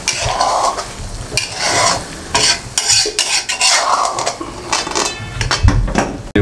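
Egg halwa stirred in a pan with a spoon after the flame is turned off, repeated scraping and clinking strokes with a light sizzle, loud and close, no talking.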